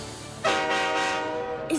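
A toy train's horn blares loudly and steadily for over a second in a children's play scene with Matchbox vehicles, a bright sustained tone with no talking.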